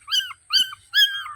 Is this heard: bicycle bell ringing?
no